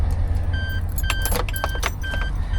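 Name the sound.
car key jangling as it is inserted into a Suzuki minivan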